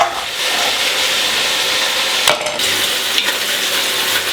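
Veal pieces browning in hot oil in a casserole for veal Marengo give a loud, continuous close sizzle, broken by a couple of brief scraping stirs.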